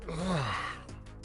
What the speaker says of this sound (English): See, every time you yawn, you make me yawn